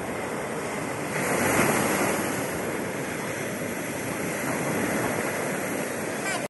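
Steady roar of ocean surf breaking on a beach at Pariaman, West Sumatra, swelling slightly then holding, with wind rumbling across the microphone.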